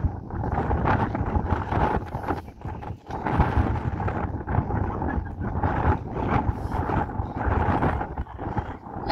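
Strong coastal wind at Cape d'Aguilar buffets the microphone, a loud, continuous roaring rumble that gusts and dips unevenly throughout.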